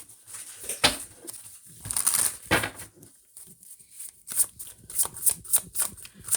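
Tarot cards being shuffled in repeated papery riffles and bursts that come and go, with brief pauses between and a light crisp rustle throughout, close and fairly clear.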